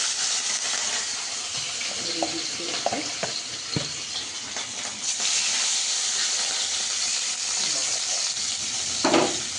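Pointed gourd and potato frying in hot, smoking oil, with a strong continuous sizzle and hiss broken by stirring clatters and a louder surge partway through.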